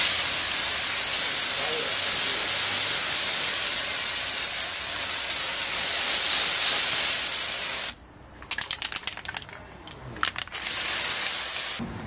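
An aerosol spray paint can coats decorative items in a kitchen with a steady, loud hiss for about eight seconds, then breaks into a series of short sputtering bursts.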